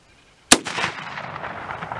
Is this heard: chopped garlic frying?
no